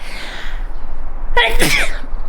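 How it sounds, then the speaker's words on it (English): A single sharp sneeze bursts out loud and close, preceded by a short inhale, against faint background noise. "I'm going to sneeze."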